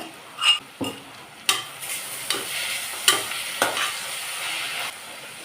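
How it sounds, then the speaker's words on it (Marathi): Chopped onion stirred and frying in hot oil with garlic-ginger paste for egg biryani, a soft steady sizzle broken by several sharp scraping stirs of a spoon against the pan, close and without voices. "आता कांदा छान परतून घेऊया आपण तेलात"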